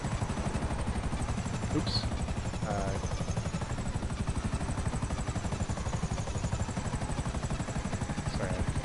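A helicopter in a GTA game thrums steadily with fast, even rotor pulses throughout, loud and close, while a person briefly speaks over it.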